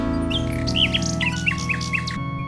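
Nightingale chirping in the King's Quest VI video game: a run of bright, clear whistled chirps in quick succession over a steady synthesized music bed.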